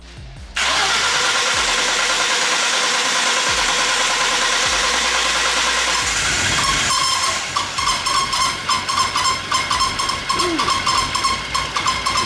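A powerful supercharged Mustang engine with an out-of-balance crank cranks and roars to life with a loud hissing rush, then settles into a rough, loping idle with uneven pulsing beats.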